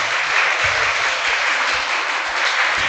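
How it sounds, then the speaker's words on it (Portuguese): Congregation at a church service applauding, dense sustained clapping from many hands filling the room, loud and continuous throughout with a few low thumps beneath. "Pode aplaudir Jesus aí bem forte."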